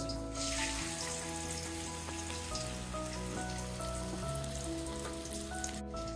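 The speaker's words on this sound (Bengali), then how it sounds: "এগুলো মিডিয়াম আঁচে ভাজতে হবে।" Stuffed spiny gourd fries on medium heat, giving a loud, unbroken crackling sizzle close up. A low, steady hum sits underneath throughout.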